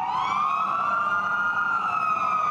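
Fire engines and ambulances rush out with sirens wailing during a fire rescue drill at the Taipei Dome, a loud, close, continuous siren tone sweeping slowly with no other sound.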